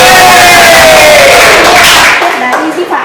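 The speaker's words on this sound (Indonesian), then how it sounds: "Tepuk tangan" Loud close crowd noise from a classroom audience during a microteaching session, a burst of cheering and shouting voices that fades off within a few seconds; the clapping itself is hard to pick out.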